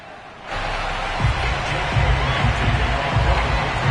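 Sold-out stadium crowd in an EA Sports NFL video game roars steadily as the Patriots face the Cleveland Browns, a dense continuous wash of cheering that swells after a quiet start, with low thumps beneath.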